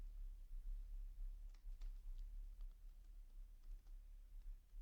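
Someone types a short line of text on a computer keyboard, a quick run of light clicks and taps, faint and close over a low steady hum, with no talking.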